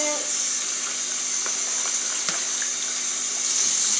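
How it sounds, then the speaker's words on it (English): Cold tap water runs steadily over shrimp being rinsed in a kitchen sink, a close hissing stream with a few faint clinks. "when you rinse your seafood, please, shrimp, cold water"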